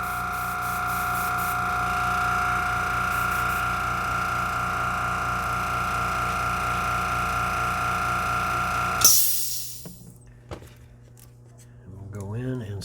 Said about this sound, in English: I apologize for the noise from the compressor